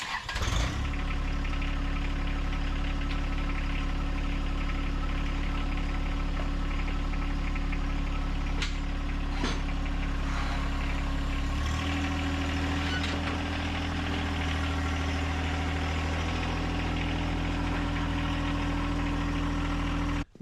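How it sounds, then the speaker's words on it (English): A John Deere compact tractor's small diesel engine idles steadily up close with a constant low drone, its pitch shifting partway through as the revs change. "Now I'm about to get on the tractor and drive it off."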